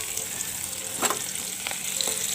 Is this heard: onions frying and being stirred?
yes